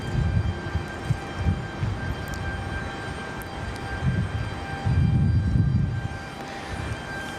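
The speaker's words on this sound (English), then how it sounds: "a little bit closer making some noise there. That American Airlines 737, that's American Airlines 2685" An American Airlines Boeing 737-800 at Raleigh Durham airport gives off a low, rumbling engine roar at moderate distance. It holds steady, then swells louder for a second or two before easing back, with no voices present.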